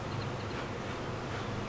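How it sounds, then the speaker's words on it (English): A swarm of honeybees being transferred into a top bar hive gives a thick, unbroken buzzing hum, near and even throughout, with no one speaking. "Watch out, little bees."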